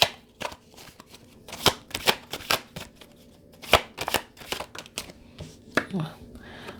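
Tarot cards being shuffled in a string of crisp riffling bursts and slaps, close and fairly loud, with brief pauses between handfuls.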